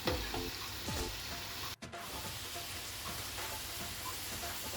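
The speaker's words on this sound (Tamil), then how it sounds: "எண்ணெய் கொதிய வேணும், நல்லா புரிஞ்சு வரணும்." Curry leaves frying in boiling homemade hair oil, a steady close sizzle and crackle with a brief dropout partway through and no talking.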